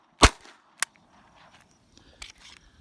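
A Winchester Wildcat .22 LR rifle fires a round into the dirt, one sharp close crack followed by a smaller metallic click and faint handling noises, with no talking.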